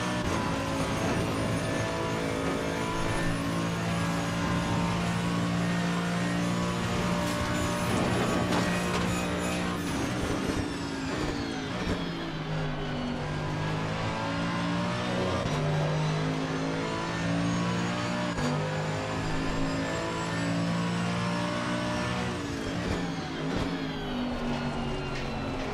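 Mercedes-AMG Evo GT3 race car engine in Assetto Corsa Competizione at Mount Panorama, a loud steady high-revving roar that drops pitch on a downshift into first gear, then climbs again through the corner.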